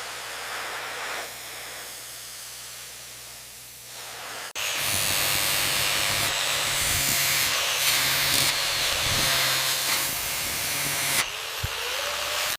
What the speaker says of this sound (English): Steam gets into every tight spot.